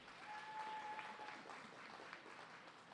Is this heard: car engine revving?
no